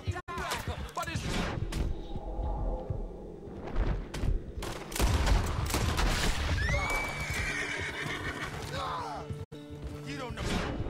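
Gunfire in the Western video game Red Dead Redemption 2 comes as scattered sharp shots amid a horse's neighing and other game sounds, under excited talking throughout.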